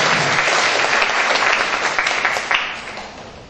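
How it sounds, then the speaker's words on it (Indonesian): Debate audience applauding after a speaker finishes at a constitutional court debate competition between university teams, steady dense clapping filling the room for a few seconds before tapering slightly. "kita berikan aplaus"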